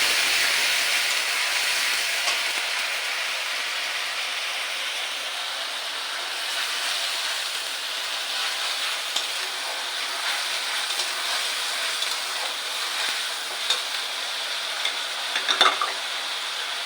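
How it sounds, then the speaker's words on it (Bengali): Mustard seeds, onion and ginger frying in oil for mango dal, a loud hissing sizzle that starts strong and settles into steady crackling, with a few sharp pops and spoon clinks near the end, no speech. "সর্ষে পরে এবারে দিচ্ছি পেঁয়াজ আদা।"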